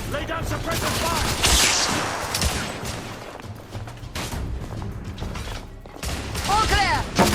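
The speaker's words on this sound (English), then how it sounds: "Lay down suppressive fire!" Video game battle gunfire in The Order, with bursts of shots and mechanical clatter running continuously beneath shouted voices, loud and close through most of the stretch.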